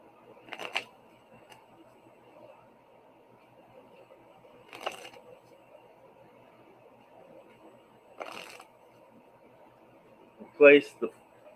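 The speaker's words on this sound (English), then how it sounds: "we shuffle the treasure cards" Short bursts of Forbidden Island board game treasure cards being riffled and shuffled, four brief rustling flurries spaced a few seconds apart, the last one sharper and louder, against quiet background.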